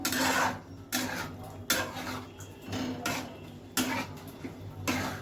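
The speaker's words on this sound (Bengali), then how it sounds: "এবার এটাকে ভালো করে নাড়িয়ে ছাড়িয়ে" White sauce pasta is stirred and scraped around a pan, giving repeated soft clinks and rasping scrapes at an uneven rhythm, close and fairly quiet, with no talking.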